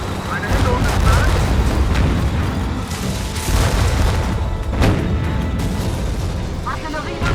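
Artillery explosions in the video game War Front: Turning Point boom out in heavy, rumbling bursts over continuous battlefield noise, with a few louder blasts standing out.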